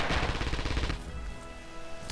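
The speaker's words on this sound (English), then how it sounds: "lots of bullets flying out of that PPSH" A PPSh submachine gun in a multiplayer shooter game rattles off a rapid, dense burst of gunfire for about a second, then the sound trails into a ringing, fading tail.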